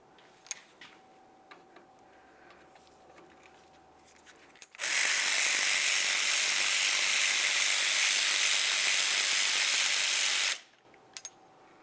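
A ratchet with a T45 Torx bit loosens the brake caliper slider bolts on a 1998-2002 Lincoln Navigator, producing a loud, dense, continuous burst of rapid mechanical clatter for about six seconds between faint ticks.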